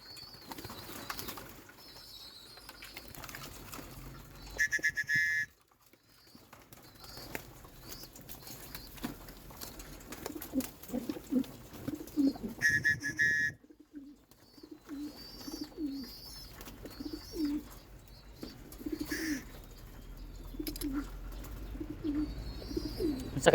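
Racing pigeons coo softly in a loft, low throaty calls repeating under a steady background, with brief bursts of wing flapping and light pattering.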